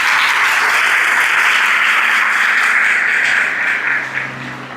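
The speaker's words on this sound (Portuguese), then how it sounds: "Vamos aplaudir a palavra de Deus" A church congregation applauds at an evening service, a loud, dense, even wash of many hands clapping together that fades slightly near the end. No one talks over it.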